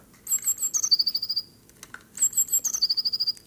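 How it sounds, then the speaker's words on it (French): A little bird sings clear, high, rapid chirping phrases, close and alone, with one trilled sequence repeated twice after a brief pause. "Il était une fois un petit oiseau qui chantait du matin au soir"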